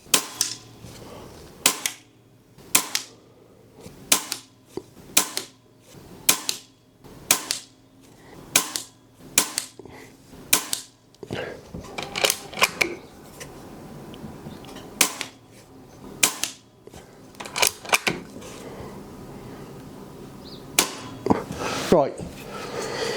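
An FX air rifle fires a long run of shots through a chronograph: sharp, close cracks come at a steady rhythm at first, then grow more uneven, with a voice speaking at points between them.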